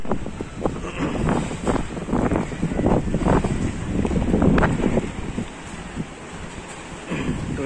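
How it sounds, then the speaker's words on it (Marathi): Strong cyclone winds from Tauktae sweep through Mumbai, roaring and buffeting the microphone in uneven gusts that swell and ease continuously, with no one talking. "तुम्ही बघू शकता, सोसाट्याचा वारा सुटलेला आहे।"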